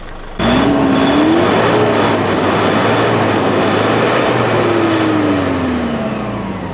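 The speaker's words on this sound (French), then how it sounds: "on va l'accélérer la machine là" An engine treated with Hydrohybrid+ kicks in abruptly and revs, a loud sustained roar whose pitch climbs, holds, then slowly falls as the throttle eases, with no talk over it.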